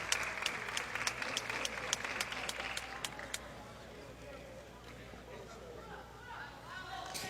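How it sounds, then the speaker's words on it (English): A basketball arena crowd at a FIBA Women's AmeriCup game applauds an injured player, with sharp, distinct claps standing out for the first few seconds before fading into a softer murmur of crowd noise. "she's going to be stretchered off as those who are here giving her a round of applause"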